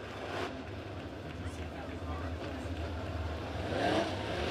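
Several USRA A-Modified race cars roar steadily around the dirt oval at Springfield Raceway, engines swelling louder near the end, with a track announcer talking over the continuous din.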